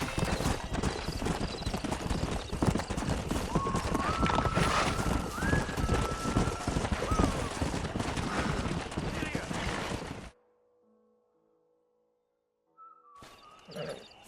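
Horse hooves clip-clop steadily on the ground in Red Dead Redemption, mixed with game ambience and a whistle, cutting to near silence before resuming faintly.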